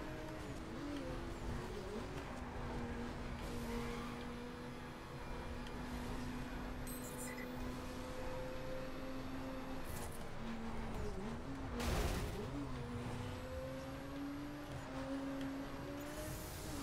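A car in The Crew drives at a steady engine drone, its pitch wavering gently as it shifts and turns, with a brief rushing burst midway and faint background noise, no talk.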